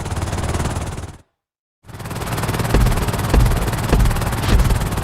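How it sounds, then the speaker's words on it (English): A helicopter flies in GTA V, its rotor whoosh and engine drone steady and loud, broken by a brief total dropout before resuming with rhythmic thumps. "This is another helicopter lesson, but with a real emphasis on speed this time."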